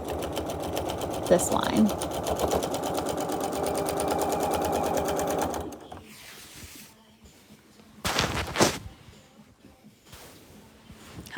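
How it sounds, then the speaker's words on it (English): A sewing machine quilting a quilt, stitching down a line: a steady, close mechanical whirr for several seconds, then a pause with a couple of short bursts, with a person talking over it. "I'll put my presser foot back down and start stitching down"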